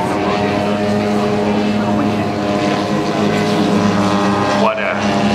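Engine of a model World War I aeroplane at an outdoor model airshow, a steady buzzing drone that holds for several seconds and then shifts pitch as it flies off, with crowd noise in the background.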